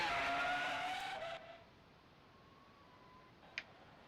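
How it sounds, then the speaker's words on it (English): Race car in a racing video game at the Austrian Grand Prix brakes late and skids: a loud, harsh tire-and-engine roar for about a second and a half, then it cuts off to quiet background with one faint tick near the end. "Late on the brakes. A little too late on the brakes."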